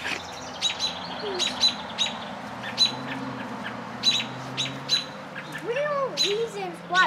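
A robin chirps from a tree outdoors, giving sharp, repeated high chirps at irregular intervals, moderately close, while people talk underneath.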